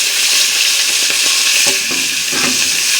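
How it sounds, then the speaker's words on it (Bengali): Live koi fish fry in hot oil in a pan, giving a loud, steady sizzle with a few soft scrapes of stirring and no talking. "তো এখন আমি ভাজা করে নেব মাছগুলো।"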